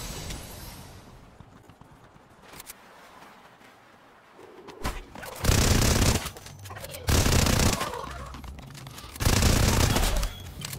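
Loud bursts of automatic gunfire in Fortnite, shooting at a llama: three dense volleys of rapid shots, each lasting over a second, separated by short pauses and preceded by quieter game sounds.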